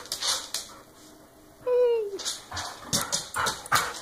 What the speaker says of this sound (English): How could you bring another dog?